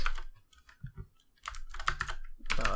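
Bursts of rapid typing on a computer keyboard while writing game code, with clicky keystrokes in quick clusters separated by short pauses, close and fairly quiet.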